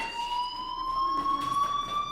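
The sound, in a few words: fire alarm ringing in video game Life is Strange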